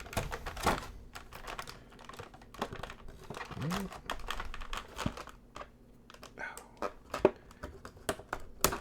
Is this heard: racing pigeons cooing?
no